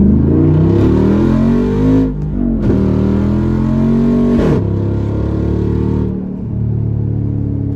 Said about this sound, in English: It gets through first gear faster than anything I've ever been in.